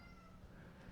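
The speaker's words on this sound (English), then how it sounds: "And there's a cat right on cue." A cat gives a single faint, short meow in a quiet room, heard alone without talking.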